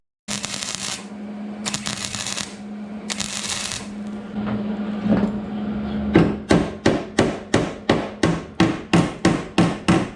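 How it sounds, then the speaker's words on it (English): A welder works on a replacement rocker panel of a Mercury Sable station wagon. Three short, crackling welding bursts are followed by a rapid, regular run of sharp ticks and taps. "fire the welder up, and we're going to start welding it in place"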